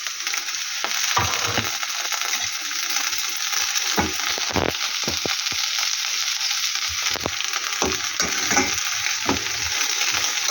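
Eggs with purslane fry in a pan while being stirred. A loud, constant sizzle carries scattered scraping and tapping from the utensil, close up and without talking.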